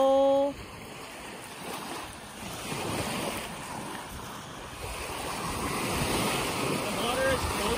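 Lake waves wash over stones along a shoreline, a steady rolling surge that builds slowly, with wind noise on the microphone and a brief sound at the start.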